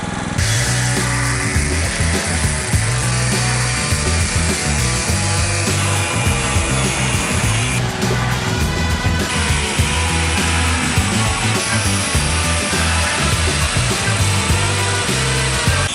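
A power tool fitted with a Diablo cutting disc grinds continuously and loudly, a harsh dense whine with a gritty, rough texture throughout, no speech.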